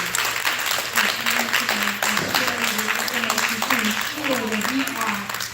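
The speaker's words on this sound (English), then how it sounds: "let's give a great big applause" An audience at a town hall meeting gives a sustained round of applause. The clapping is dense and continuous, with several people talking over it at the same time.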